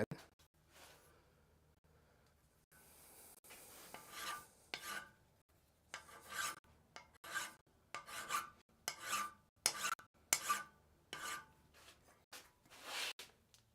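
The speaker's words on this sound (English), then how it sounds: "when I'm filing them, I'll actually rotate the file as I'm going" Hand file rasping along the cross peen ends of a blacksmith hammer, rotated while stroking, in a forge shop; a quiet irregular run of short scraping strokes, faint at first then steadier, with no talk.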